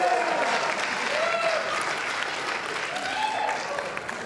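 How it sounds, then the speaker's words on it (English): A wedding reception crowd gives a loud, sustained round of applause after a magic act, dense clapping with scattered cheers and voices mixed in throughout. "Round of applause."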